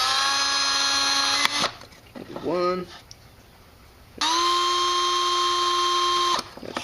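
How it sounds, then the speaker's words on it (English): A power drill bores holes around an aluminium bottle for a DIY stove, two long steady whining bursts near the mic with a pause between, while a voice counts briefly in the gap. "we're going to go ahead and drill 8 holes all the way around"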